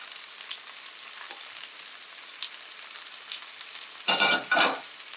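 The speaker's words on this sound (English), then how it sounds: "I add the green chili" Green chili hisses faintly in a pan with mashed tomatoes, a soft crackle dotted with small pops, then two louder bursts of sizzling near the end; nobody talks.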